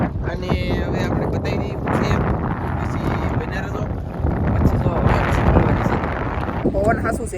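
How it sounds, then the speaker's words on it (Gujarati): Strong wind out at sea roars and buffets the microphone continuously, gusting louder midway, with voices faintly audible beneath the blustery noise. "પવન અમારે બહુ વધતી છે બહુ વધતી"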